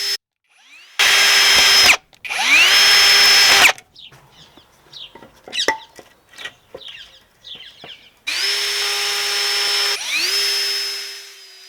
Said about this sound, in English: Drill the holes, and then you're going to screw your frame together.